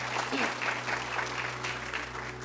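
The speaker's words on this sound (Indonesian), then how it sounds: "Tepuk tangan dong buat semua hamba Tuhan." Church congregation applauding steadily throughout, a dense continuous clatter of many hands with a low hum underneath.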